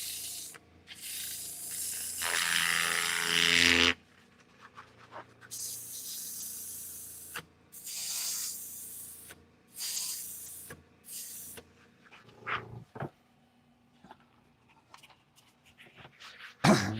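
Compressed air blows dust off a woodturning piece in several loud, hissing bursts of varying length separated by quiet gaps, with a few faint knocks and handling noises near the end.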